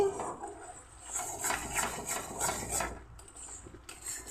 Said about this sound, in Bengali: অল্প পরিমাণ জল দিয়ে আমি মশলাটা কষিয়ে নিচ্ছি